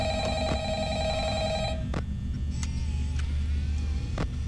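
Telephone ringing in the Five Nights at Freddy's video game, a bright electronic ring tone sounding for under two seconds, then cutting off, leaving a low rumbling background hum with occasional soft clicks.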